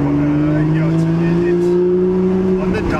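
A BMW M2 with an N55 engine making around 410 horsepower, its exhaust droning with a steady, slowly rising tone, loud and close.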